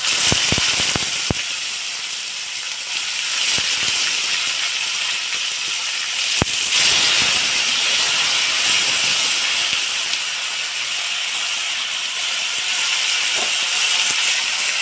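Onion tossed into hot oil in a home kitchen pan, frying for a Bengali masoor dal dish: a steady, loud hissing sizzle that fills the whole stretch, with a few sharp clicks and clatters near the start.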